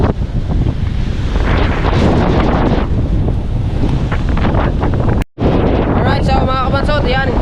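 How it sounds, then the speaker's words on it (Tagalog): Big ocean waves and strong wind buffet a small boat, a loud, constant roar of wind on the microphone and crashing surf, broken by one brief dropout. "sobrang lalaki ng alon mga kabansot"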